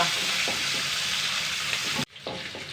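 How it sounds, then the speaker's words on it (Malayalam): Small onions and curry leaves frying in oil in a pan, a steady close sizzle that drops away sharply near the end before picking up again more quietly. "ഉള്ളിയൊക്കെ മൂത്തു"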